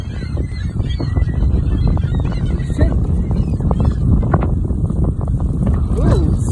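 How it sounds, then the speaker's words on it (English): Strong wind buffeting close to the microphone, a constant rough rumble with gusts, while geese honk nearby. "Ooh, so windy in here."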